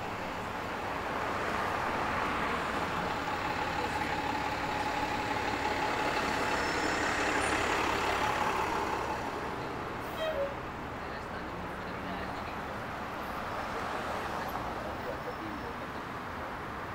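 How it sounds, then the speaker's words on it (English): Downtown Toronto traffic jam with trucks idling near the Don River and Queen Street viaducts, a steady broadband engine and road rumble throughout, dense and continuous with a faint brief beep partway. "And into a mini traffic jam."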